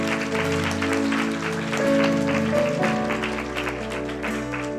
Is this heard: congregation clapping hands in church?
yes